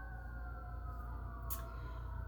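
Emergency sirens wail steadily in the distance, their pitch gliding slowly over a low rumbling background, with a short hiss near the end.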